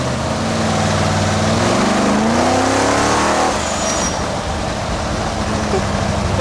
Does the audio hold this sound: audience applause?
no